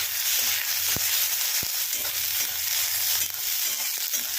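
Cauliflower and peas frying in a kadai for quick vegetable Maggi noodles, a steady loud sizzle broken by a couple of sharp utensil knocks.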